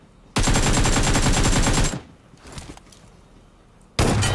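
Automatic gunfire in PUBG Mobile, a loud rapid burst lasting about a second and a half, then a few quieter shots, then another sharp burst at the end.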